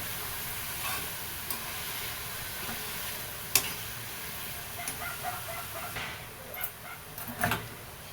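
Spring onion greens and green chillies sauté in oil for a dish with moong dal, giving a low steady sizzle with occasional sharp stirring clicks and scrapes throughout.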